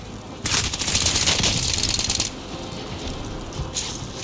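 Cluster airstrike explosions in Call of Duty Warzone on Rebirth Island go off in a rapid crackling burst of blasts lasting about two seconds, then fade into quieter rumbling.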